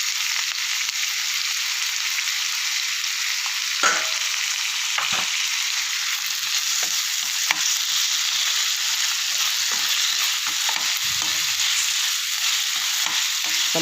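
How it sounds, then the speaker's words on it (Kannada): Tomato frying in a pan with salt, a loud continuous hissing sizzle with occasional stirring knocks and scrapes, close up and uninterrupted by voices. "ಟೊಮೊಟೊ ಸ್ವಲ್ಪ ಫ್ರೈ ಆಗಲಿ"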